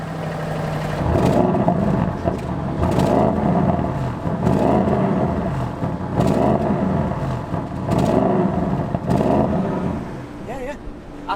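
A 2021 Audi RS6 with an aftermarket exhaust revs repeatedly just after start-up, its engine swelling and falling in regular bursts, up close and loud, with people talking over it.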